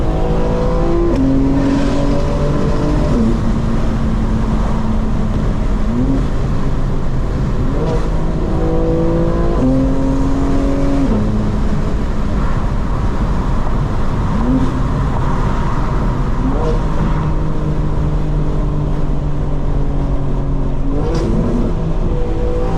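A 2025 BMW M4 Competition xDrive accelerates hard in all-wheel drive, its engine loud and close as it climbs through the gears with stepped rises in pitch and drops at each shift, over a constant roar of road and wind.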